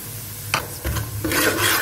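Semolina is stirred and roasted in a pan, with soft scraping strokes of a spoon and a light sizzle coming in short bursts, close and fairly quiet.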